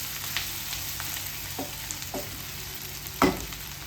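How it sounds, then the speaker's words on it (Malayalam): Bitter gourd and onion fry in a pan under a soft continuous sizzle, with a few scrapes of stirring and one sharper clack of the spatula near the end. "പാവയ്ക്ക ഇടയ്ക്കിടയ്ക്ക് ഇളക്കി കൊടുക്കണേ, അല്ലെങ്കിൽ അടിയിൽ കരിയരുത്"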